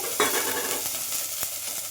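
Mustard seeds, cumin and garlic go into hot ghee in a pressure cooker, giving a steady close sizzle with light crackles and a few sharp pops, with no voices.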